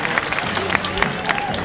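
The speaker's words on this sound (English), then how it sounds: "How about a big round of applause for Akasha and that wonderful demonstration?" An audience at a theme park tiger show applauds after a demonstration with the tiger Akasha, loud close clapping with scattered cheers and voices mixed in.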